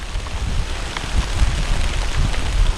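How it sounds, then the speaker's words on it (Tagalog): A sudden rain shower falls outdoors, a steady close hiss of drops with low rumbling gusts buffeting the microphone. "yan, umuulan"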